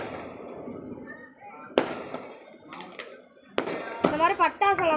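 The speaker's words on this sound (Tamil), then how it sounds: "அது வெடி வெடிச்சிருச்சு." A firecracker bursts with a sharp crack, then another pops a couple of seconds later, followed by voices close by.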